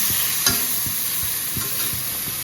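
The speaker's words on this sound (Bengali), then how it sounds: "সবার আগে একটুখানি এই মাশরুমটাকে ভেজে নিচ্ছি অল্প তেল দিয়ে" Mushrooms frying in a little oil in a pan give a steady broadband sizzle, with repeated soft scrapes and stirs of a spatula about every half second, close and alone with no talking.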